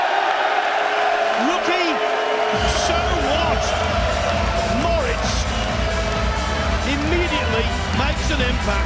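A London crowd at a Mosconi Cup pool match breaks into loud cheering and whooping that swells and continues steadily, with voices shouting through the roar.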